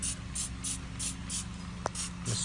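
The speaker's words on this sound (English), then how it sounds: "So what we're going to do, we're going to spray it." Repeated short spray bursts of spider poo remover onto a teak floor, a rhythmic series of faint hissing squirts at close range over a low background hum.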